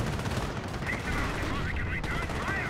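Machine gun fire from a Company of Heroes battle, a dense rattle of rapid bursts that keeps going for a few seconds, mixed with other battle noise.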